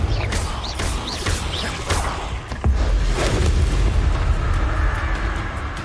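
A Confringo fire spell blasts in Hogwarts Legacy amid other spell effects, with a deep booming explosion and rumble after several sharp whooshing casts, loud and close.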